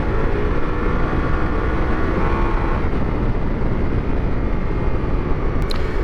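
A Ducati Multistrada V4 and a BMW R1250GS ride side by side on a dirt road, with a steady, loud broadband roar of engines and wind that holds without letup throughout.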